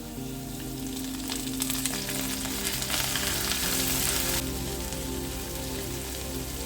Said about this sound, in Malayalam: വെളുത്തുള്ളി ജസ്റ്റ് ഒന്ന് വഴന്ന് വരുമ്പോൾ അതിലേക്ക് കറിവേപ്പില ചേർത്ത് കൊടുക്കാം